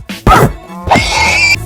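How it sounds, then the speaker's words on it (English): Two sad, drawn-out Minecraft horse death cries in quick succession, the second a longer wavering whine, loud and close with no talking. "I killed these horses for leather, and man, the sound they made when they died was so sad"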